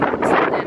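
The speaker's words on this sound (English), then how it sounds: "It's getting very windy" Gusty wind before a storm in London buffeting the microphone, a loud rumbling rush that swells and dips over a brief moment.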